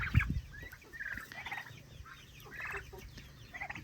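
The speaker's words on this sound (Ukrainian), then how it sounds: "Індики дуються, так гарно, вони такі молоденькі, красиві" Young turkeys gobble in repeated rattling bursts, fairly close, with quieter clucks and shuffling between the calls.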